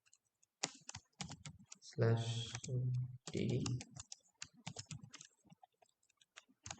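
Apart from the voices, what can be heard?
typing a password on a computer keyboard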